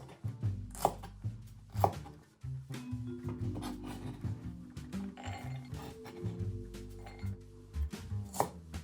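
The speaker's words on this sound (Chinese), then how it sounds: "然后是蒜苔，放这东西是为了好看，一小把就够了。 比照肉丁的大小， 切成小段。" Garlic scapes are cut into short pieces with a knife on a cutting board, producing sharp, irregular chops with pauses between strokes, heard close and with no talking.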